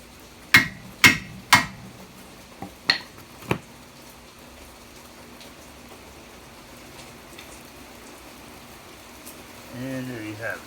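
Hammer tapping a Phillips-head rotor screw on a 2014 Kia Optima brake, giving about six sharp metallic knocks in an uneven cluster, then quiet, with a voice starting at the end.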